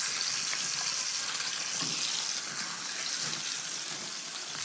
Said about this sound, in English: Go ahead and place your protein in the skillet or the pan away from you.